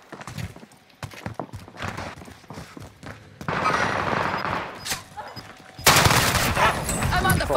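Video game gunfire in a military shooter: bursts of shots and clattering fire come in clusters, swelling into dense, loud volleys toward the end, mixed with game radio chatter and other battle noise.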